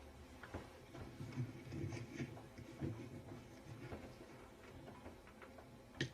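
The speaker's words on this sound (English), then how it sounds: "Clock ticked." A faint clock ticks in a quiet room, with soft, evenly spaced clicks repeating over several seconds and nothing else notable around them.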